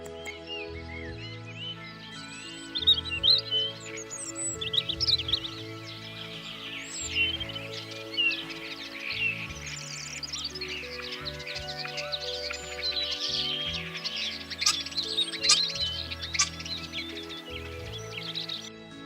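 Starling song: bright chirps and whistled trills run throughout over steady background music, moderately loud and busy.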